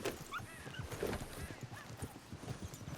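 Horse hooves clip-clopping along a dirt track in the Red Dead Redemption 2 video game, a steady patter of hoof falls mixed with ambient outdoor game sounds, heard alone without talk.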